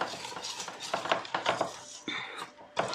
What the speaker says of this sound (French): on reprend notre petit fouet et on mélange